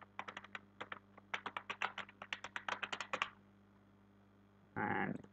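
Crisp, rapid keystrokes clatter on a computer keyboard as an email address is entered, in two close bursts, followed by a pause and then a short, louder burst of rustling noise.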